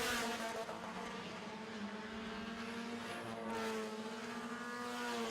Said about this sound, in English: the rev limiter chip will make it cut in and out like that.